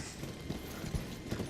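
Hooves of a goat-like horse creature in Elden Ring clop along at a steady, medium pace over a low background rumble, with no talking.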